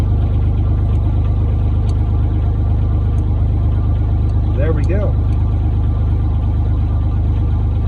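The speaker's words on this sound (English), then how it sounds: "we can start the engine up from here with no issues" A Mazda car's diesel engine, rewired in a Tesla diesel hybrid conversion and controlled from inside the console, runs at a steady, loud idle hum throughout, while a person speaks briefly over it.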